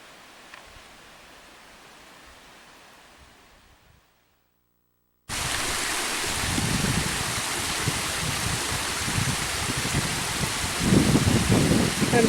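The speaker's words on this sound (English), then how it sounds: "looking at water draining into the creek from unknown source at the swampy area" Water from an unknown source drains into Patterson Creek at a swampy area near the Ima Mine waste dumps, a steady close rushing hiss that stops briefly and then returns louder and fuller.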